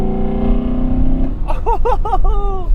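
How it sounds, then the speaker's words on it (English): A car engine drones loudly, then rises in pitch with a throaty induction roar as it accelerates under load in a fairly high gear, with a few quick surging swells. "if I accelerate in a highish gear, you'll get that noise as the car goes under load"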